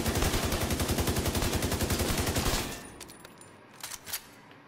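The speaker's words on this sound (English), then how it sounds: "Just empty the clip. Now here's how fast my ACR reloads." An ACR rifle in The Division 2 fires a rapid sustained burst of evenly spaced shots until the magazine empties, then falls to quieter mechanical clicks and clacks of a fast reload.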